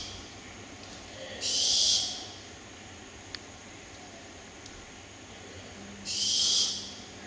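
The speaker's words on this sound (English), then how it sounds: "That's the baby owls." Baby owls hooting at night outdoors, two short hissing screech calls a few seconds apart, moderately loud over a quiet, faintly hissing background with no talk.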